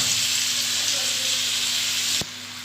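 Onion and pepper frying in leftover chicken oil in a pan, a steady loud sizzle with faint stirring, cutting off abruptly near the end.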